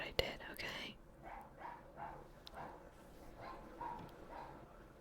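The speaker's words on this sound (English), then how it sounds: "The neighbor's dog is barking again." A neighbour's dog barks repeatedly in the distance, faint muffled yaps spaced through the clip, under close soft whispering.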